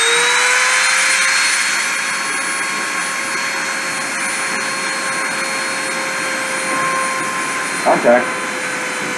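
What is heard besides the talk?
machine spindle spinning at 30,000 RPM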